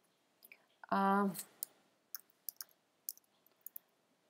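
A single crisp click stands out after a short tonal beep, then several more faint, sparse clicks follow in a quiet room.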